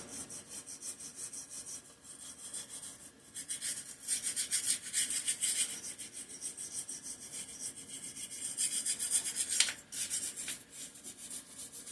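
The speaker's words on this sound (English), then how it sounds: "I'm gonna take a moment to take a brush and scrub some of this dirt buildup off of here." A brush scrubs caked dirt off a 3 hp Briggs and Stratton engine, making close, dry rasping strokes in uneven bursts of scratchy scrubbing with short pauses between them, and no voices.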